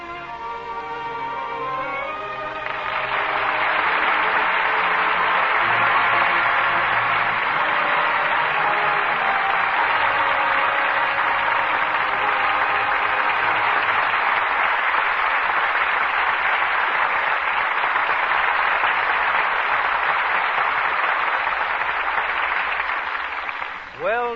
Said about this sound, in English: well-deserved applause for two superb performances from Joseph Cotton and Ida Lupino